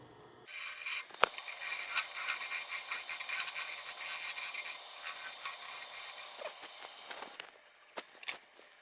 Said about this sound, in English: The carbide tool is working pretty good. It's only a 1/2 inch shaft, but it's removing woods pretty efficiently.